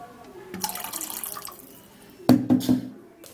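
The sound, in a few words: water poured into a bowl of ginger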